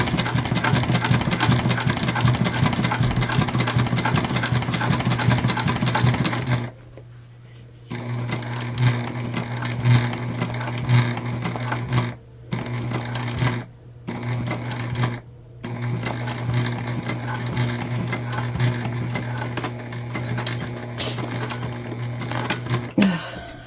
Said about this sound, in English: I'm just trying to get that back stitch on our fabric.